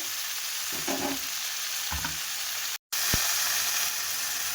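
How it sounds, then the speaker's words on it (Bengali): Ground ginger, tomato and green chili paste fries in hot oil with a loud, even hiss, a few spoon scrapes, and a brief break in the sound near the middle. "মশলাটা একটু কষিয়ে নেব।"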